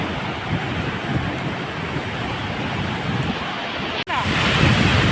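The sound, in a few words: ocean waves breaking on shore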